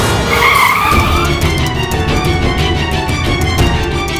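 A car brakes hard with loud tire skidding and squealing, a sustained screech with rumbling engine noise and scattered clatter, up close.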